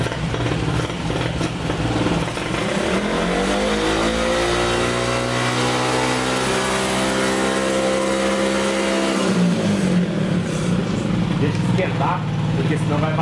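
A car engine in a workshop held at raised throttle, loud and close, with the revs climbing and a tone that sweeps steadily before dropping away near the end, with voices talking over it.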